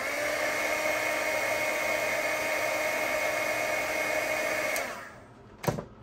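A hair dryer blows steadily close by while drying a freshly stipple-painted bead for a Christmas wreath ornament, then switches off near the end, leaving a brief soft knock before quiet.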